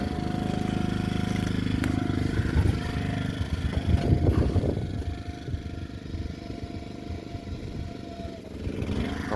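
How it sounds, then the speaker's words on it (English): Small generator running at a gold-recovery tailings pond while a 12-volt pump is powered, a steady low engine drone with wind and handling noise outdoors, moderately close and continuous. "Going 12 volts on the generator."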